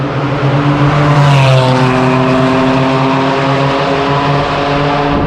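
Supercars including a McLaren 570S run on a Formula One race track, a loud, steady engine drone with rising harmonic tones as a car accelerates past, continuous and close with no talk.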